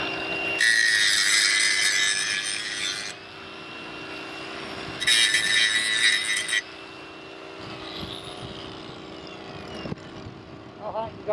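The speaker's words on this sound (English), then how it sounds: "We're gonna have to clean the spot. You mean get a grinder?" An angle grinder cleaning a spot on an old 1960s tractor, two loud sustained whining bursts of a few seconds each over a steady background hum, with voices talking in between.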